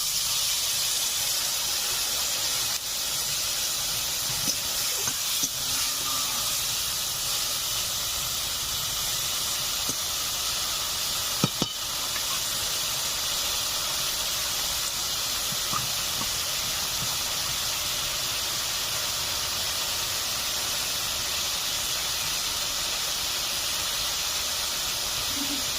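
Water goes into a pan of frying spice paste with chopped tomato, prepared for a rohu fish kalia. A loud, steady hiss of steam runs unbroken for the whole stretch, with only a few faint clicks above it.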